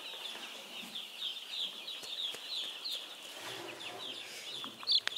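Chickens and small chicks on a farm cluck and peep in a steady, busy chorus, close and moderately loud, with scattered rustles and a few sharper calls near the end.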